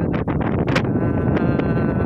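Strong wind buffets the microphone outdoors at Dingalan, Aurora, producing loud continuous rumbling with gusty bursts and no speech.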